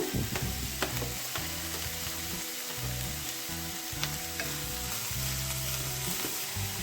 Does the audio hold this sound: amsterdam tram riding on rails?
no